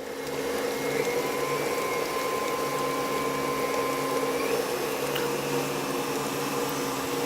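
An electric mixer whips butter for tamale dough in a cooking-school kitchen, giving a steady, close motor whir that runs unbroken throughout with no voices.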